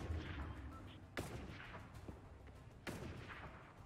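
Gunfire in the video game Fortnite, a few sharp distant-sounding shots cracking out over a soft jungle ambience, with no talk.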